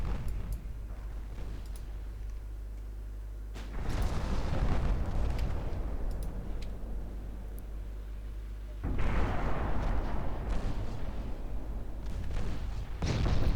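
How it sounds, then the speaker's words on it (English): Warships in the naval game Ultimate Admiral Dreadnoughts take torpedo hits, with heavy, rumbling explosions bursting out in two long waves over a low steady engine drone, loud and close. "Qinghai takes another torpedo."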